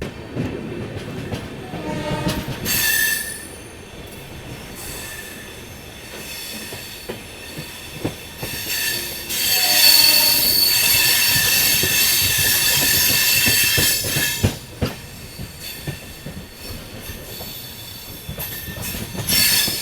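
The 17428 Narasapur–Tirupati express on an LHB rake running toward Palakollu station in India, with loud rumbling, clickety-clack and wheel squeal, rising into a sustained roar midway, no talk.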